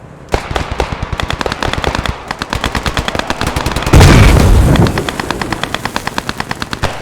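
Rapid machine-gun bursts crackle loudly and repeatedly through a video game battle, joined midway by a heavy, roaring blast of mortar fire before the gunfire resumes.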